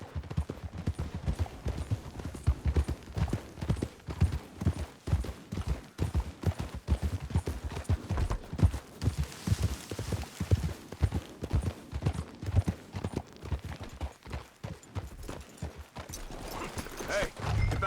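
Horse hooves clip-clop in a steady trotting rhythm in Red Dead Redemption 2, fairly close, with a faint hiss of wind or breath partway through.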